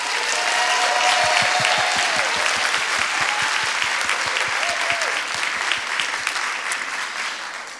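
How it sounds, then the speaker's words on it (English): A school audience at an international expo gives a round of applause for the fourth grade, dense sustained clapping with a brief whistle-like tone early on, close and loud throughout. "One more round of applause for fourth grade."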